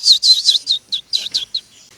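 The dilu, a small yellowish bird with black feet from the Philippines, gives a quick series of about eight high, clear chirps, loud and close, each dropping slightly in pitch, then fading.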